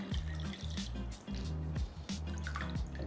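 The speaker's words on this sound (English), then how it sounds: "Rinse with water." Snow fungus being rinsed under a running kitchen tap, a steady splashing stream of water with dripping and sink sounds, close and continuous, without talk.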